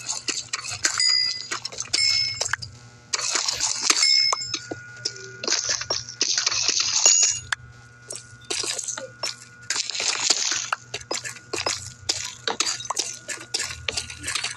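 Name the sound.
pickaxe mining blocks in Minecraft video game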